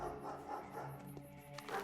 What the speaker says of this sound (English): Keep hearing those dog bark noises and thinking they're mine.